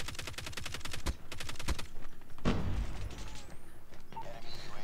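Rapid automatic gunfire from the LK rifle in the mobile shooter COD Mobile, fast steady bursts of shots with a heavy boom in the middle, played loud and continuous.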